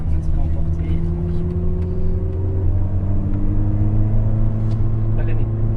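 A car lapping the Nürburgring Nordschleife on its first warm-up lap, its engine a steady loud drone with shifting tonal pitch throughout, while people talk over it.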